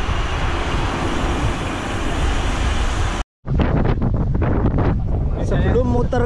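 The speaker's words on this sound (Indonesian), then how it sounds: "karena anginnya kencang sekali, tidak bisa merekod" Strong wind buffeting a microphone outdoors on a route around Taoyuan International Airport; a loud, roaring broadband rumble drowns everything, cuts out briefly, then returns with rushing wind and passing vehicle noise.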